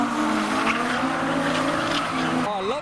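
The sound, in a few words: Vauxhall Amiga V6 car engine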